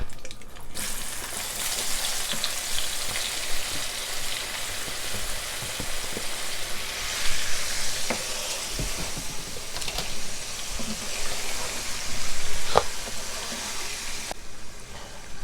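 Onions fry in seasoned oil with a continuous close sizzle, broken by scattered crackles and a few louder pops, steady throughout with no voices.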